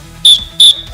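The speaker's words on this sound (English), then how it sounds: "Oh, he's got the whistle." Sports whistle blown in short sharp shrill blasts, three bursts in quick succession, loud and close with no talk.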